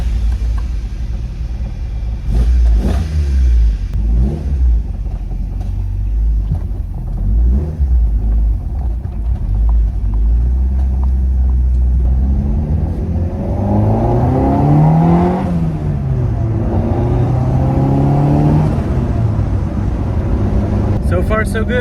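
A car fitted with 1000cc tuned injectors and an anti-lag setup accelerates hard along a road, its engine droning and rising in pitch through repeated pulls, loud and close from inside the cabin.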